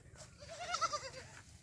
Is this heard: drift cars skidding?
no